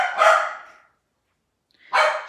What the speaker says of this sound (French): Les chiens. Je sais pas pourquoi qu'elle jappe.